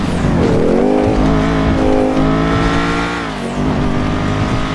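A video game car engine revs loudly and steadily, its pitch rising and dipping as it accelerates, alone with no voices.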